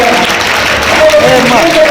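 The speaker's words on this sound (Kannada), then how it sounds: "ಜೋರಾದ ಚಪ್ಪಾಳೆಯೊಂದಿಗೆ" Loud, sustained clapping from an audience at an award ceremony honouring a religious seer at a mutt, filling the moment with dense applause as a voice carries on over it.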